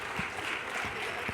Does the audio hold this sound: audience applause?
yes